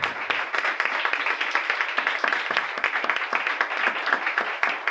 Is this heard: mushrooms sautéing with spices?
no